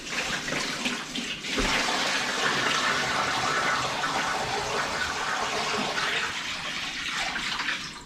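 Water gushes in a steady, full stream into a container for a turkey brine, a close, continuous pour that begins after a brief pause and runs unbroken to the end.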